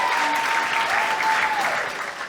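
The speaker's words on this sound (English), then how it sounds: "let's give them a round of applause for everything they've done" A round of applause at a wedding speech, with steady, dense clapping from the guests that fades slightly at the end.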